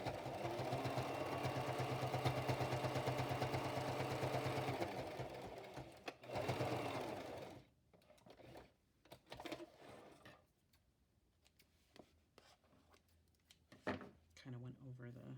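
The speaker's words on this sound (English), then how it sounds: "I just want to get a stitch at the top and then also at the bottom" A sewing machine stitches along the top and bottom of a handmade journal, a steady loud mechanical whirr running for several seconds and then stopping, followed by quieter handling clicks and rustles.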